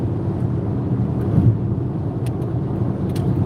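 A car weaves through road traffic, its steady low engine and road rumble heard from inside the cabin, loud and continuous with faint clicks on top.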